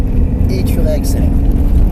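A car on a driving course accelerates after a braking zone, a loud, steady, low engine roar with faint higher noises riding above it.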